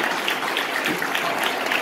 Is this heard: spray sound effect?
no